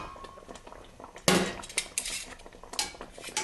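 Cutlery scrapes and clinks against a plate while pasta is served, with a sharp clatter near the start of the second and several lighter chinks and rattles after it, close and fairly quiet, with no talking.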